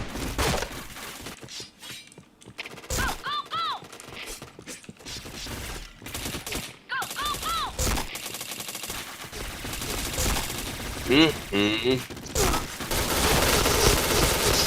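Rapid bursts of gunfire from a shooting video game, dense and loud with mechanical clatter and clinking effects, with a few brief pauses between volleys.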